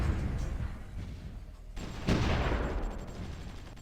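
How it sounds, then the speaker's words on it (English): Artillery bombardment in the strategy game Supreme Ruler Ultimate, heavy booming blasts rolling together with a sharp loud impact midway, then a decaying rumble, no voices. "They are still bombarding us."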